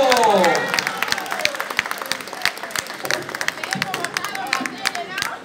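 Live audience applause and cheering at a concert, dense clapping from a crowd that continues steadily throughout with some voices and babble mixed in.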